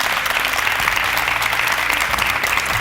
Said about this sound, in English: Round of applause to debate number 1.